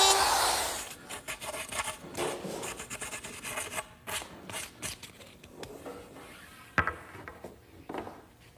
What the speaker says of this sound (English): just a couple little burrs on the edges, which I can knock off with a piece of sandpaper